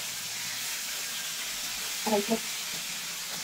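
Tilapia frying in a pan gives a steady, moderate sizzling hiss throughout, with a brief voice speaking over it near the end.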